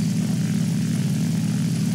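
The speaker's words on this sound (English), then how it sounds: "I'm using my dive bomber and trying to get there" Propeller engine of a dive bomber in War Thunder, diving at around 500 km/h: a steady, loud, close droning hum that holds without break, with no talking over it.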